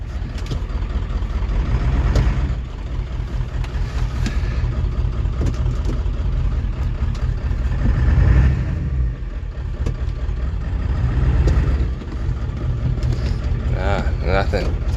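Ford F250 with a 7.3 Powerstroke diesel engine runs steadily up close, a continuous low rumble that swells a few times as it idles, with someone talking over it.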